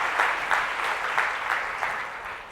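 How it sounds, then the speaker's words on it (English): An audience at a tech summit in New York applauding speakers, a continuous crowd clapping with slight surges, fairly close and full, no voices over it. "clap for our last couple of speakers"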